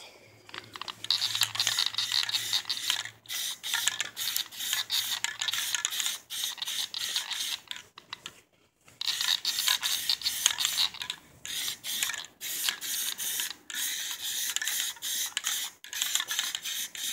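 Aerosol can of Plasti Dip hissing in long, steady bursts as it coats car rims, with brief pauses between passes and a faint rattling mechanical texture, close and fairly loud.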